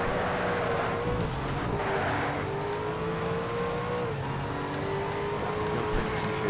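An Aston Martin racing in Need for Speed Shift gives a loud, sustained engine drone with shifting pitch as it accelerates and changes gear, continuous from start to end.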